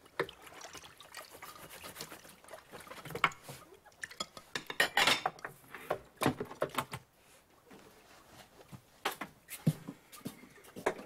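Dishes being washed: clinks of cutlery and plates knocking together, with bursts of running and trickling water, close by and irregular.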